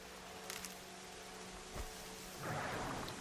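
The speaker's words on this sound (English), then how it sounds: "it's raining and I don't even have an umbrella" Steady rain falls in the video game Horizon Zero Dawn, a constant hissing wash with a soft low thump partway through and a brief swell of heavier downpour near the end.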